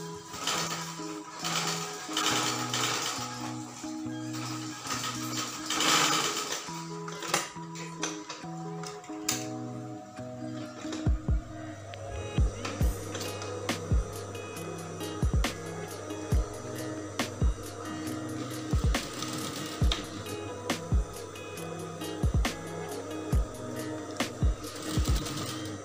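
A sewing machine stitches the lining of a woman's blouse in short intermittent runs of rapid mechanical whirring, separated by pauses and sharp clicks from handling the fabric and machine.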